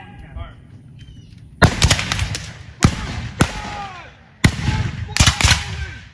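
Civil War re-enactors fire muskets at a fort in a series of sharp, loud cracks, some nearly overlapping in ragged volleys, each trailing off in echo, with shouted voices between shots.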